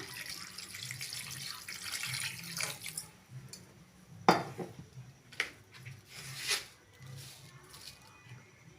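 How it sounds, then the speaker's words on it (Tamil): Tap water is poured into a pan of broccoli being stir-fried for Tamil-style poriyal. Faint running and splashing water comes with a few clinks and rubbing sounds. There is no talk. "காய் வேகத்துக்கு தேவையான அளவு தண்ணி சேர்த்துக்கலாம்"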